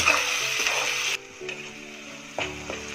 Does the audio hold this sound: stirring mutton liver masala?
yes